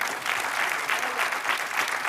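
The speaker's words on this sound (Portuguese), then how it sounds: "com a nossa queríssima Cristina Esteves, para quem eu peço uma salva de palmas." A steady burst of television studio audience applause, many hands clapping together at a moderate distance, filling the whole moment without any voices.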